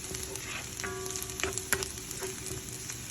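Garlic fries in oil until browned, a soft steady sizzle close by with occasional sharp crackles and light clicks of a utensil, no talking heard.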